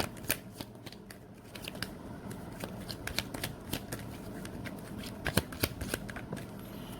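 Tarot cards are shuffled and drawn during a reading, producing close, soft papery riffles and irregular crisp snaps and flicks throughout, with no voice present.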